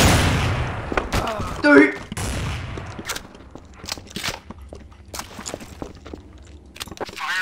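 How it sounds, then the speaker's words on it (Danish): Gunfire in the video game Counter-Strike: Source: rapid bursts of sharp shots and clicks crackle in irregular volleys, with excited players talking over them. "Han skyder ned i jorden, så headshotter han."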